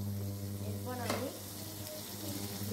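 Potatoes fry in a pan for a prawn curry with onion stalks, giving a steady close sizzle with occasional stirring scrapes and a low hum underneath.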